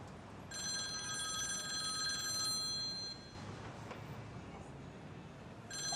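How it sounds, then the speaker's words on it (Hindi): A telephone rings with a bright electronic trilling tone in repeated bursts, fairly quiet against a soft background with faint voices underneath. "किसका फोन है?"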